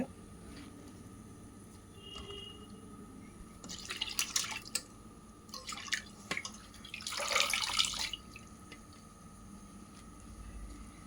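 Manathakkali greens (black nightshade leaves) are rinsed in a bowl of water, giving soft splashes, drips and wet squishing in uneven bursts close by, with no talk.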